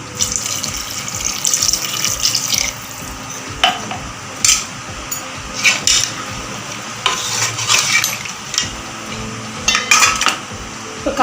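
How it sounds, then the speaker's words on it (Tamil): Water splashes and pours into a pot of dried fish curry amid stirring and clinking of a utensil against metal, with a low sizzle underneath. "இப்போ தண்ணி சேர்த்துக்குவோம்."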